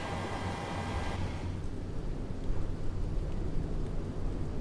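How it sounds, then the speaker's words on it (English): Rain falls over Miami in a flight simulator as a steady broadband hiss with a low rumbling undertone, brighter for the first second and then continuing evenly. "I did not know it was going to be raining in Miami."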